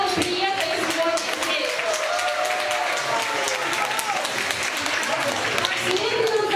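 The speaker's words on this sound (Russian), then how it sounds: "давайте поприветствуем друг друга аплодисментами" A concert audience in Moscow applauds, dense continuous clapping from a large crowd sustained throughout, with a voice speaking over it.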